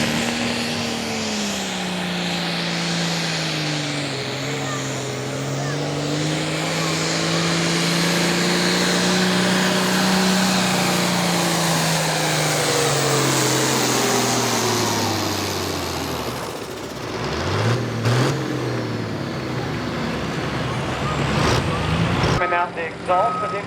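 Modified farm tractor engine at a tractor pull, a loud sustained roar that gradually rises and falls in pitch as it lugs down for about fifteen seconds, then cuts off to quieter rumbling and distant crowd noise.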